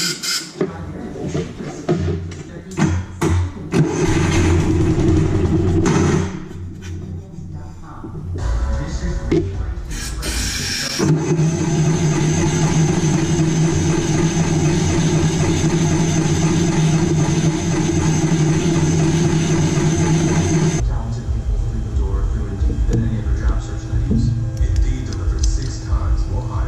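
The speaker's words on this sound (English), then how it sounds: "see if at least we can start it with starting fluid" A John Deere 6X4 utility vehicle engine, which would not start properly without starting fluid, fires up on a dose of starting fluid and settles into a steady, loud idle, with bursts of earlier activity before it.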